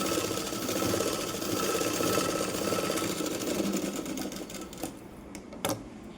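Sewing machine stitching a hook belt onto a blouse, a fast, steady mechanical rattle running close and continuous, slowing into a few separate clicks at the end.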